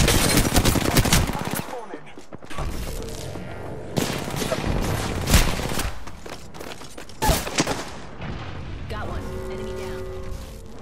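Rapid automatic gunfire from the Apex Legends video game, loud and near, with sustained bursts and a few pauses, mixed with game effects and voice callouts.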